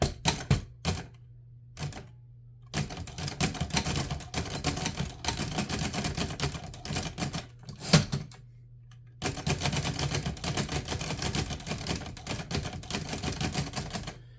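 A 1937 Remington or Underwood Noiseless Portable typewriter is typed on in dense, steady runs of soft, muted keystrokes, with a few isolated strikes at the start and a short pause midway, close and clear with no talking.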